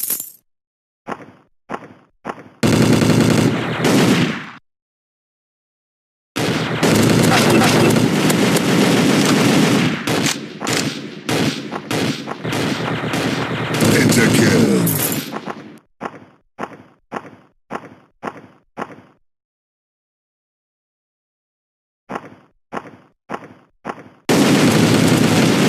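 Bursts of gunfire from the Special Ops online PvP first-person shooter: short spaced single shots alternate with long sustained automatic volleys, loud and close, with gaps of silence between bursts.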